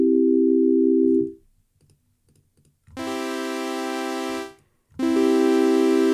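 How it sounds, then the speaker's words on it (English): Synthesizer oscillators hold steady tones: a pure sine wave sounds alone first, then a buzzy saw wave layered with it sustains twice, separated by short pauses with faint clicks. "let's see what it sounds like when we put a saw wave and a sine wave together"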